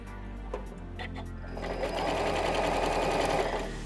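A sewing machine stitches down a quarter-inch pleat on a fabric surgical-style face mask, with a few light clicks before a steady, fast whirring run of the needle, close and fairly quiet.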